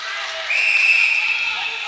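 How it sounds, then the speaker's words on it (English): A referee's whistle sounds once in a sustained shrill blast at a youth U16 AAA ice hockey game, rising out of rink ambience and holding for over a second. "We get a whistle."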